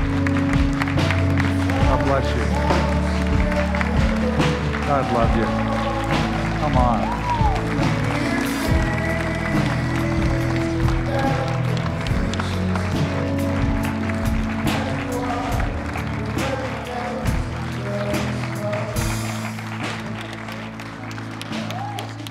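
Sustained congregation applause fills a church service, steady and full throughout with scattered cheers, while someone speaks briefly over it.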